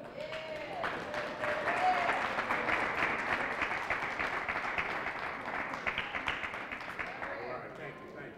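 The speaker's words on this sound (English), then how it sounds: "Give a round of applause to Brother Michael M. Hotep." A seated audience at a 2014 Kwanzaa cultural event applauds, a dense, steady wash of clapping that fills the room for several seconds, with scattered voices mixed in.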